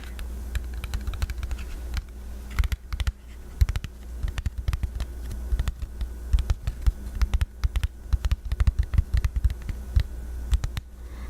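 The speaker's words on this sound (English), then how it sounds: "I like the sound of tapping slowly" Slow fingertip tapping on a hard surface in a soft-spoken ASMR session, made of irregular, crisp close-up taps spread steadily over about eleven seconds, with no voice.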